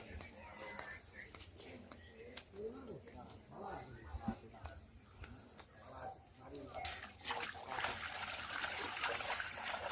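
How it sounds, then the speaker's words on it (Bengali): Fish being rinsed in pond water outdoors, with soft splashing and trickling close by under steady background sound, birds calling faintly and a voice speaking quietly. "মাছগুলি পুকুরে ধোয়া হবে পুকুরের মধ্যে ধোয়া হবে"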